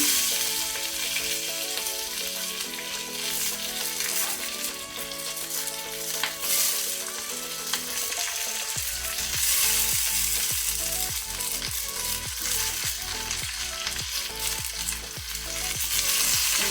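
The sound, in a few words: tindora and green chilli frying in pan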